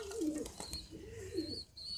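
Pigeons, baby birds among them, coo softly outdoors after bathing in water, two low rolling coos with faint higher chirps between, fairly quiet and with no talk.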